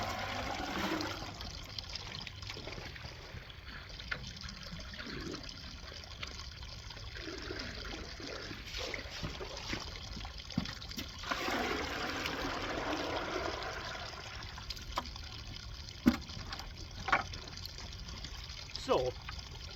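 Water from a gravity-fed line at a river gold-prospecting sluice rushes steadily into a 5-gallon bucket, a continuous close hiss and trickle with occasional splashes and knocks throughout.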